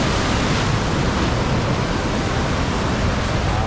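Big ocean waves break and wash on a fishing beach, a loud, steady broadband roar of surf with no pauses and no voices, close to the microphone.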